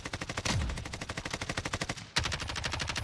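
Rapid automatic gunfire in the video game Black Ops Cold War, a loud, close, evenly paced burst that cuts out briefly before a second burst resumes at the same fast rate.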